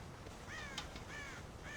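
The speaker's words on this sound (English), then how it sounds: "God damn crows!" Crows caw in the Red Dead Redemption video game, several hoarse calls in a loose sequence, faint and somewhat distant over a low ambient bed.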